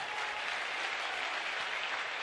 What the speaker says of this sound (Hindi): बिटिया के लिए खूब ताली बजाओ,